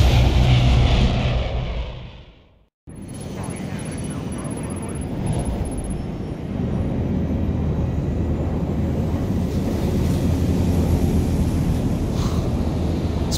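A constant loud, broadband engine drone fills an airplane cabin in the video game Splinter Cell Blacklist, cutting out for a moment before resuming steady and unbroken.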